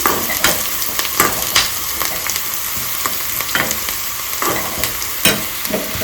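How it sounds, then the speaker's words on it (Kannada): Onions frying in a pan toward golden brown, with a steady broadband sizzle and repeated scraping, stirring strokes of a spatula sounding close and fairly loud throughout. "ಈರುಳ್ಳಿನ ನೀಟಾಗಿ ಬೇಯಿಸ್ಕೋಬೇಕು ಗೋಲ್ಡನ್ ಬ್ರೌನ್ ಕಲರ್ ಬರೋವರೆಗೂ"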